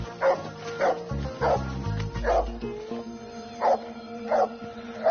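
A dog tied up at the foot of a pigeon-hunting hide barks and yips repeatedly in an uneven rhythm, fairly close, over a steady background hum.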